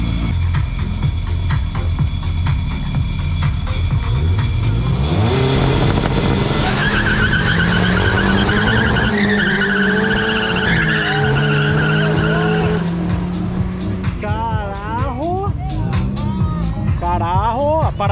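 Cars racing and skidding on a short track, engines roaring and rising in pitch with squealing tires, loud and continuous throughout, while people talk and shout excitedly over the noise.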